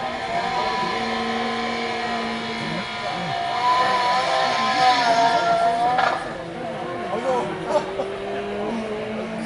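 A historic race car at the start of the Salins-les-Bains hill climb in 2015. The engine idles and revs with a steady droning pitch, and an announcer talks over the top.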